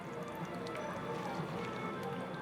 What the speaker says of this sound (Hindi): फिर सारा पानी निचोड़ लेंगे।